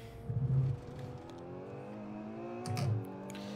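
A Ferrari 812 engine in the Assetto Corsa racing game pulls hard under acceleration, its rising, steady tone loud and close with brief surges, and no voices over it.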